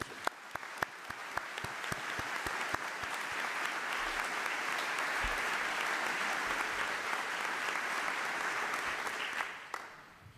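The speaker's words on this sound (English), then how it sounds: "Let's give this family one round of applause" An audience at a military change of command ceremony applauds a military family, beginning with sharp scattered claps that swell into sustained, even applause before tapering off.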